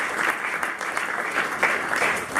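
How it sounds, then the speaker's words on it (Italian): Audience applause for the staff at a sports information meeting in Conegliano–Valdobbiadene, steady dense clapping filling the whole stretch at even loudness with no voices over it. "l'applauso a tutto lo staff"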